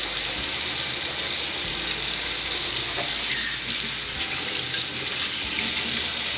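Peaches for raw-pack canning are rinsed under a running tap, a steady, close hiss of water splashing into the sink that continues with slight changes in flow and no talking.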